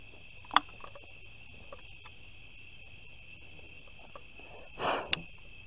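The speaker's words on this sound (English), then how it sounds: "Bugs." Crickets and other insects chirp steadily in a faint outdoor night chorus, with a few brief knocks and a soft rustle near the end, and no voices.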